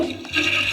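A brief rush of water from a toilet flush in a game setting, loud and close, with no talk over it.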